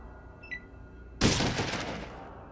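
A single loud gunshot blast from the video game Fallout, sharp, close and powerful, its noisy roar lingering for about a second before cutting off, with no voices.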